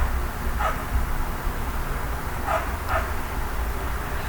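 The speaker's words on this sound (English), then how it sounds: "fucking annoying ass dog barking" A dog barks a few times in the distance, faint bursts over a steady loud background hum.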